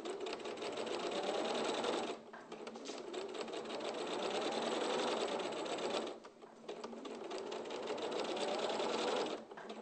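A sewing machine stitches a seam in rapid continuous bursts with brief pauses between runs, close and clear with no talking.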